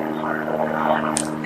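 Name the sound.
airplane flying overhead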